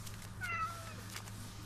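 A cat meows in The Sims 2 video game, a single drawn-out game-sound meow heard over a steady low electronic hum, with no talking.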